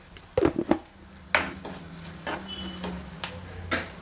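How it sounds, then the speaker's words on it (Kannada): Chopped onion and green chilli frying in a pan for a greens saaru: a quiet, steady sizzle with a few clinks and scrapes of a spoon against the pan, close up and without talk. "ಈರುಳ್ಳಿ ಮೆಣಸಿನ್ಕಾಯಿ ಫ್ರೈ ಆಗಿದೆ"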